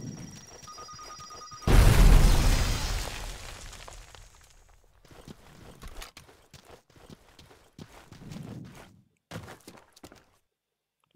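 A loud video game explosion bursts suddenly and booms, then fades into scattered clatter and quieter thuds.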